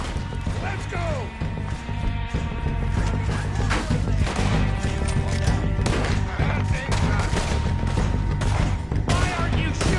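Dense gunfire in a Red Dead Redemption 2 shootout crackles almost without pause, loud and close, with a continuous bed of game sound beneath and occasional voices mixed in.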